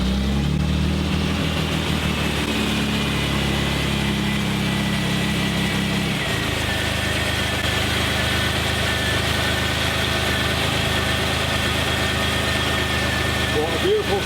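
A restored Series 1 Jaguar E-Type engine cranks and catches, then settles into a steady rumbling idle close by, with people talking over the running motor.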